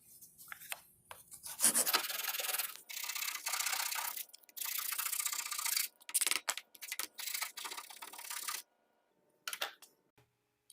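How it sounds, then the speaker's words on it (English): A hand file rasps steadily against a workpiece while shaping a fin, with repeated back-and-forth scraping strokes broken by short pauses near the end. "Instead of moving the file, this time I end up holding the file still and moving the workpiece."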